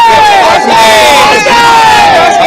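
A dense crowd of supporters at a Karnataka election campaign rally, a loud continuous roar of cheering and shouting voices with rising whoops, close and sustained throughout.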